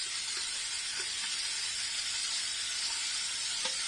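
Frozen green peas sizzle in a hot oiled pot with potatoes for chicken pulao, a steady, close frying hiss with faint crackles throughout.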